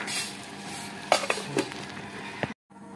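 Rice being mixed with ghee by hand in a kitchen, soft squishing and a few sharp clinks of a vessel against a bowl, close and moderately quiet, ending in a sudden cut to silence.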